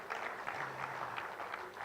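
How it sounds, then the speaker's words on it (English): Audience at a Uganda–South Africa trade and investment summit claps in a soft, scattered burst of applause, faint and fairly distant, with a low voice hum underneath. "And I wanted us to clap for him"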